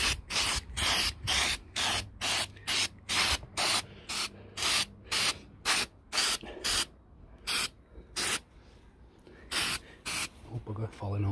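Aerosol spray paint hisses onto a brake caliper from a Mk2F Polo 86C in a long run of short, regular bursts with brief gaps, then a few sparser sprays, ending with a little clatter and faint talk.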